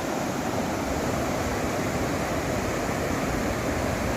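Sea waves at Ladghar beach in Dapoli make a constant, even roar of surf. The broad wash of water fills the whole stretch with no voices.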